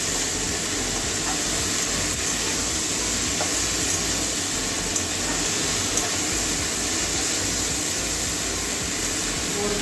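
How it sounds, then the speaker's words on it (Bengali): Long beans and potato sauté with spices in a pan, giving a steady, even hiss of sizzling that fills the whole stretch without a break and with no talk over it. "এবারে মশলার সঙ্গে ভালো করে কষিয়ে নেব।"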